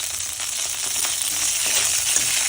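Green chillies frying in hot oil with whole cumin, poppy seeds and garam masala, a steady close-up sizzle with faint crackles throughout and no talking.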